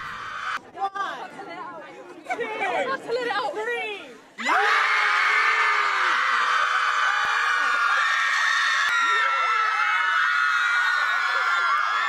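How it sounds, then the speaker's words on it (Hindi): People chatter and shout at first, then a crowd breaks into loud, sustained screaming that carries on unbroken to the end, letting it all out at full volume for catharsis. "जरा सुनते हैं कि कैसे ये चिल्लाते हैं"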